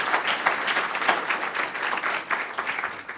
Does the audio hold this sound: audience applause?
yes